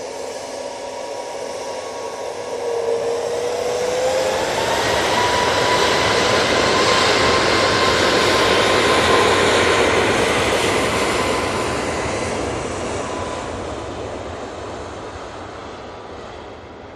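A Ryanair jet takes off from Manchester Airport bound for Dublin, a broad roaring engine rush with a faint whine that builds to a peak midway and slowly fades as it climbs away, heard alone without talk.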